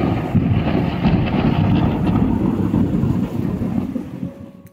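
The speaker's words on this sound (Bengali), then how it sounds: "দেখো আওয়াজটা শোনো, কীরকম মুষলধারে বৃষ্টি হচ্ছে আর মেঘ ডাকছিল।" Heavy monsoon downpour at night, a dense, steady roar of rain that stays loud and close throughout, easing slightly toward the end with no distinct thunderclap.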